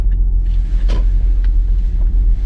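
Steady low road rumble from inside a moving car, with wind noise on the microphone and a few faint knocks; no speech.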